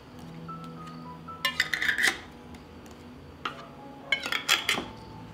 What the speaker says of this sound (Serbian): I na kraju tegle zatvaram sa čistim i novim poklopcima.